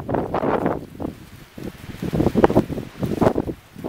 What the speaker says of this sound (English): The wind has just been crazy. As you can probably tell.